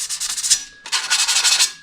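Rapid back-and-forth sanding scrapes across the rusty body panels of a 1957 Chevy, close and harsh, in a quick rhythmic burst, a brief pause, then another run of strokes.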